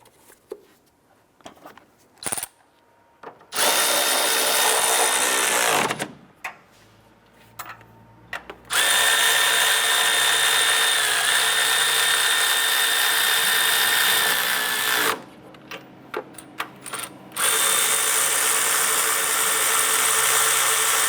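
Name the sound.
power tool snugging down nuts on a Honda Civic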